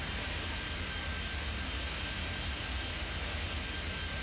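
Steady jet engine roar of airplanes taking off in the airport game Airport Madness 3D, a continuous even broadband rumble with no talking.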